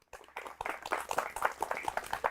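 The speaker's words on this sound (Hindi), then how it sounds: "जोरदार तालियां" A studio audience at a Doordarshan Kisan farmers' quiz show claps for a winning contestant: a close, uneven patter of hands that builds quickly and stays lively throughout.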